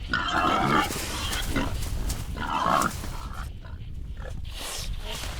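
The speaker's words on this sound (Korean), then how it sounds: "도토리밭은 멧돼지 새끼들의 먹이터다." Wild boar piglets foraging in an acorn field, with snuffling grunts and short squealing calls in bursts over a rustling, noisy background.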